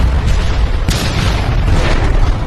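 A loud, sustained rumbling roar with a sharp burst near the one-second mark, dense low-end energy throughout like a heavy explosion and its aftermath.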